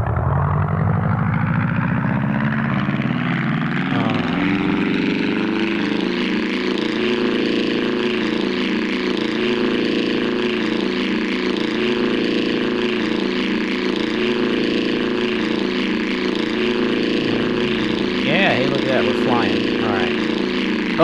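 A propeller plane engine in the video game Arma: Cold War Assault, spinning up from a low growl to a steady, loud droning hum that holds, with a voice speaking briefly over it near the end.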